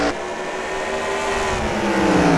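Race cars running side by side in a heat at Lake Erie, a loud continuous engine roar with rising and shifting pitch as the cars accelerate past, with no voices over it.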